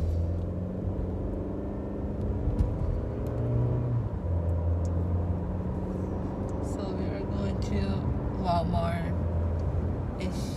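A car rolls along with passengers aboard, its low engine and road rumble holding steady throughout while people chat inside over the drone.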